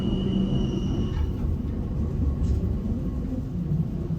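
A deep, continuous rumble of the Glacier Express rolling along the tracks and rounding curves in the Albula Valley, with a faint high metallic squeal of wheels drifting in and out.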